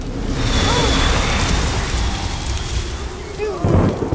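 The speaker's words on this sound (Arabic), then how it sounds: "في عاصفة جاية" An approaching thunderstorm in an animated cartoon: a steady, loud, low rumble with a hissing rain-like wash that holds throughout, then swells into a brief heavier boom near the end.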